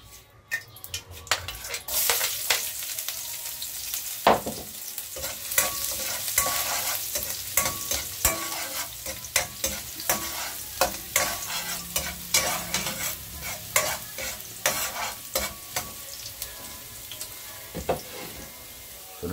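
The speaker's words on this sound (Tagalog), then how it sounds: "Magigisa na po tayo. Punahin natin ang luya." Ginger sautés in hot oil in a pan for a Bicolano-style pork offal dinuguan, a constant sizzle broken by frequent scraping stirs and utensil clatter against the pan.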